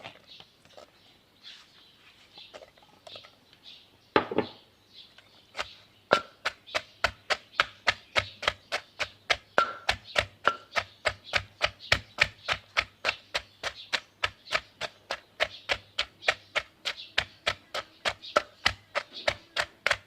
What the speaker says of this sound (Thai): ทีนี้เรามาใส่กันในครกนี่เลยนะเจ้าเราไปตำเนาะ